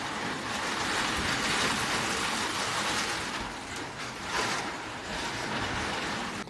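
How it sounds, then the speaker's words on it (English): Heavy rain falls outside, a loud, continuous broadband hiss and patter that stays steady throughout with slight surges, heard from indoors with no voices. "And it is really raining outside right now, so that's what that noise is."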